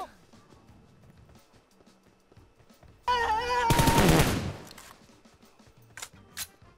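Bursts of gunfire in the PUBG battle-royale game on the Erangel map: a dense, loud volley of shots over a few seconds, followed by a couple of brief, sharper single reports.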